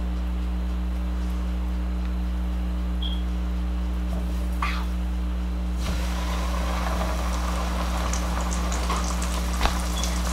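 Cajun-coated red snapper frying in hot oil, a steady dense sizzle and crackle under a constant low hum, with a couple of brief clicks.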